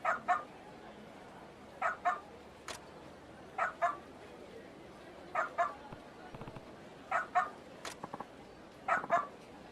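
A dog in Like a Dragon: Ishin! barks in regular paired bursts, repeating every couple of seconds, fairly close and distinct over a quiet game ambience.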